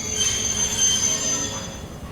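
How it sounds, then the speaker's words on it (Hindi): Train wheels squeal steadily as a Sri Lankan passenger train brakes to a stop, a continuous high metallic screech over low rumbling running noise, loud and close throughout. "लो जी, ट्रेन रुक गई।"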